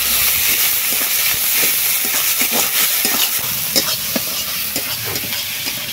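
Onions fry in a pan with chili and turmeric powder, a steady loud sizzle and hiss throughout, with scattered scrapes and stirring knocks over the frying.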